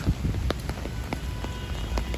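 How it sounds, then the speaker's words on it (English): Steady rain pours during a summer night storm in Manhattan, New York City, a dense continuous hiss with scattered sharper drops and splashes, heard close and alone. "It's been raining here in New York City every single day, without fail."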